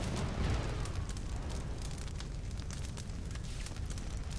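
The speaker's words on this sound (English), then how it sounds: "They're doing fireworks." Continuous rumbling crackle and booms of fireworks exploding in the video game RuneScape, a dense low roar with scattered pops throughout, no talk.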